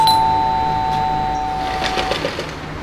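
A doorbell at the door of a house is pressed and rings a single sustained electronic tone that fades away over a couple of seconds, followed by light faint rustling.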